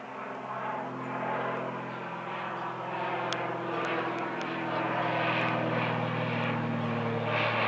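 A twin-engine propeller airplane passes overhead, its steady droning engine roar loud and continuous, swelling slightly as it draws nearer above a house.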